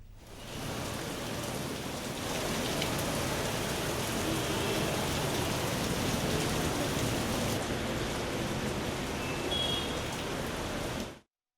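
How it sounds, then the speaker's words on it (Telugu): Heavy rain pours down over Tirumala, a dense, steady hiss of downpour on surfaces that holds evenly loud and unbroken for the whole stretch with no voices. "తిరుమలలో భారీ వర్షం కురిసింది"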